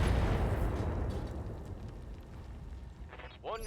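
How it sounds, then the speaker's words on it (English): An artillery strike on a facility in the mech game RogueTech, a heavy explosive boom at the start that rolls off into a long rumbling decay, with a brief sharp sound near the end. "we're going to be dropping artillery on the facility"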